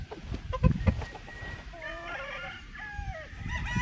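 Gamefowl rooster crowing close by, a strained, wavering crow in the second half after some clucking and scuffling noises, with no talk.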